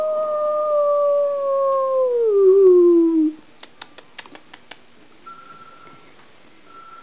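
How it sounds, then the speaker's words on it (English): A telephone rings in short repeated electronic tones near the end, after a long, loud dog howl and a few sharp clicks. "Uh-oh, the phone's ringing."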